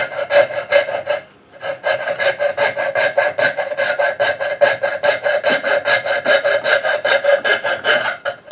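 Rhythmic rasping strokes of a file on a wooden Pinewood Derby car, fast and regular back-and-forth scraping, close and loud, with one brief pause early on.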